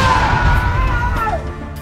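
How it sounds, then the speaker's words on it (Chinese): Thrown black clay-pot bombs explode among charging soldiers in an animated Three Kingdoms battle, a loud, close crashing boom that fades out within two seconds. "随着一阵爆炸声响起"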